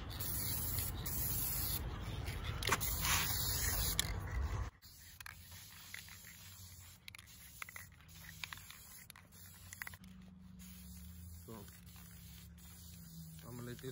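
Spray paint hisses onto car rims in a loud, steady burst for about four seconds, then stops, followed by quieter handling noises and small clicks, with some talking.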